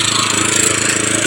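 A lawn mower runs loud and close with a steady, rough engine drone while cutting tall grass around a tree on a rural property in the Philippines.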